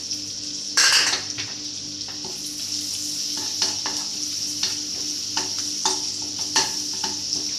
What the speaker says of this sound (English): Next, in goes the garlic, the chopped garlic.